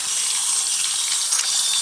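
Water streams from an RV faucet as the onboard tank runs low, a steady close hiss of flow with slight flutter near the end.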